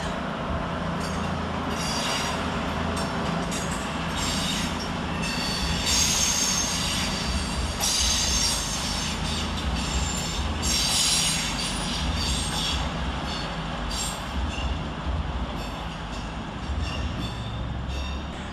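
An Avanti West Coast train, the service to Holyhead, departs London Euston with a continuous rumble, rolling wheel clatter and repeated high wheel squeals, loud and close throughout.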